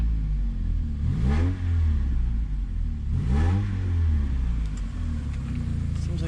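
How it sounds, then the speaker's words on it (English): 1991 Honda Prelude Si engine revving near, two sharp throttle blips that climb and drop back to a low idle rumble, with AC belt work going on around it. "Let's give it some revs."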